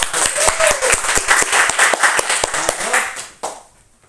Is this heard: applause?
yes